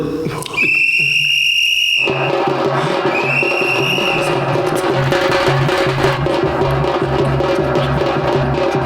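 A loud, shrill whistle blown in two sharp blasts, the first longer and the second shorter. Louder crowd-like chatter and music then take over the rest of the scene.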